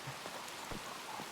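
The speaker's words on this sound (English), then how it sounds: "I'm used to this rain." Steady rain falls outdoors with a faint, continuous patter of drops, quiet and unbroken, with no voices.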